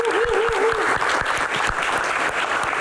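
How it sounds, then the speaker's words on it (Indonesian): A studio audience applauds to welcome film director Joko Anwar and producer Dewi Umaya onto a talk-show stage, a steady, dense round of clapping filling the whole stretch with a brief tonal sweep early on. "Kita berikan tepuk tangan yang paling meriah"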